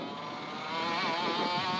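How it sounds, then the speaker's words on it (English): A KF2 racing kart engine revs up as its power valve opens during a test session at the British Karting Championship. The buzzing, high-pitched whine rises steadily and grows louder, close and alone. "And then you get this mad rush of power as the power valve opens."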